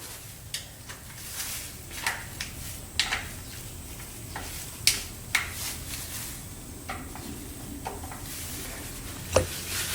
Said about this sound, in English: I'm going to be removing these three bolts right here off the oil filter cover